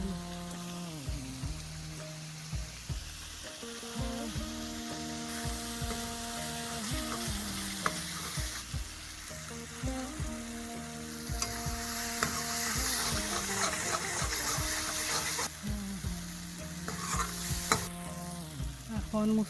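Spice masala with salt fries in oil and is stirred. A constant crackling sizzle runs under repeated rhythmic scraping strokes of the spoon against the pan for about twenty seconds.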